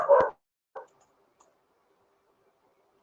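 A pair of household dogs gives a couple of short barks, a loud one at the start and a softer one shortly after, with quiet gaps in between and another bark beginning at the end.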